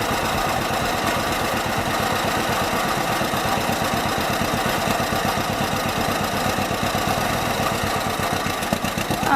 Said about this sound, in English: If the tractor's frozen to the ground, try reversing first.